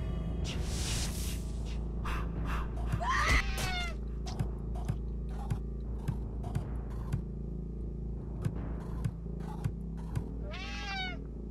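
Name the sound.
cat meowing in video game Friday the 13th: Killer Puzzle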